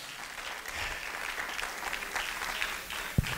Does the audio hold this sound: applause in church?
yes